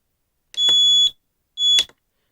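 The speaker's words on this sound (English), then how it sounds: "So when you hear that beeping, that tells you that you've reached a point on your alarm with your telemetry." A JR XG8 radio transmitter sounds its low-battery telemetry alarm: two loud, steady electronic beeps, each about half a second long, separated by a short gap, with silence around them.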